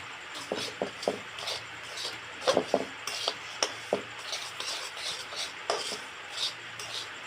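Semolina roasting in ghee in a kadhai, stirred with a spoon that scrapes and rasps against the pan in quick irregular strokes, with a faint sizzle underneath.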